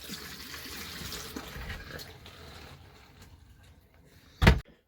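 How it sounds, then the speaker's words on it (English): Winterizing fluid poured down the bathroom drain of a vintage Gulf Stream cruiser camper, a steady close liquid pour and gurgle that tapers off, ending with a short loud knock. "And then a little bit down the bathroom drain."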